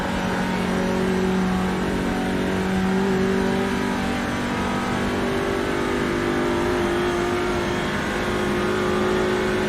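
A TCR race car in a racing video game holds a steady, loud, high-revving engine drone that rises and falls slightly in pitch, with no talking.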